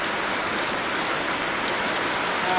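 Heavy rain pours down steadily, a dense, loud hiss with no pauses, close and continuous throughout.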